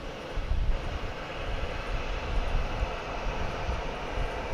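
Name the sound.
Boeing 737-800 airliner at DFW Airport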